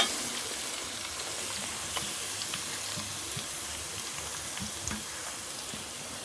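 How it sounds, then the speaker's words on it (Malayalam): Four finely chopped onions sizzle in a hot pan for an egg thoran, a steady, close hiss of frying with faint crackles throughout. "നമുക്ക് ഒരു 4 സവാള ചെറുതായിട്ടൊന്ന് അരിഞ്ഞു വെച്ചത് ഇട്ട് കൊടുക്കാം."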